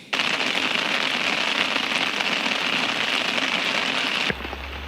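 Steady rain falls on a carp fishing lake in France, a dense, loud, even hiss that stays constant for several seconds before dropping slightly at the end, with no voices.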